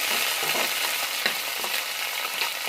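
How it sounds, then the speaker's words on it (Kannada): Sliced onions and curry leaves fry steadily in hot oil, giving a dense, continuous sizzle with small crackles. No voices are heard. "ಇದಕ್ಕೆ ನಾನು ಈರುಳ್ಳಿನ ಸ್ಲೈಸಸ್ ಆಗಿ ಕಟ್ ಮಾಡಿ ಇಟ್ಕೊಂಡಿದ್ದೀನಿ ಅದನ್ನು ಹಾಕ್ಕೊಳ್ತಾ ಇದ್ದೀನಿ ಅದ್ರಾಗೆ ಸ್ವಲ್ಪ ಕರ್ಬೇವನ್ನು ಹಾಕ್ಕೊಂಡಿದ್ದೀನಿ"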